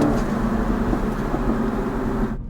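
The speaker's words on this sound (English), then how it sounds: "Let's hear the boost." The engine of an F56 Mini Cooper S with turbo boost gives a continuous low, humming drone that holds steady, then cuts off abruptly just before the end.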